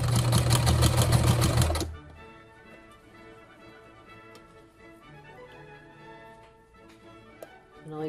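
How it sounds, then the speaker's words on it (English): A sewing machine stitches bias tape along a fabric edge for cosplay, running in a loud, rapid, steady burst for about two seconds before stopping, leaving a quiet room. "And then you sew it right at the edge."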